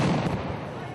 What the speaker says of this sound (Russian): Взрыв и все как один к земле.